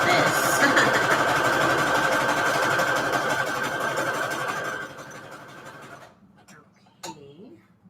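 A sewing machine stitches Christmas fabric scraps for a junk journal cover, running loud and steady for about five seconds before slowing and stopping, followed by a few faint handling clicks.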